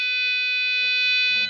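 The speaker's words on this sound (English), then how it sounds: "in case you want to increase this beep sound volume" A passive buzzer driven by a PIC16F877A microcontroller sounds one steady, loud, unbroken electronic tone that holds evenly throughout and stops abruptly at the end, with no talking.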